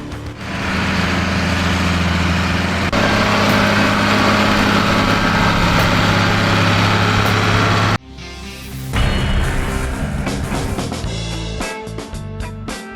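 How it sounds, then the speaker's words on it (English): A watermelon harvesting machine with hoppers working in a field, a loud steady engine drone with clattering that breaks into sharper knocks and rattles partway through, no voices. "this machine can handle up to 90 watermelons per minute, making it as fun to watch as it is powerful in the field"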